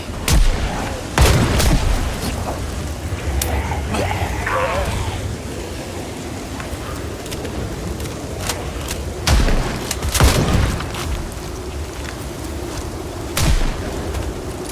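Gunfire in a tense fight in fog, scattered sharp shots and heavy booms at irregular intervals over a constant rumble, with voices talking faintly.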